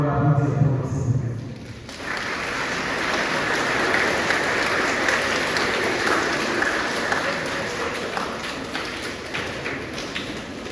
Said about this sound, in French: Je vous demande de bien vouloir l'applaudir pour cette occasion.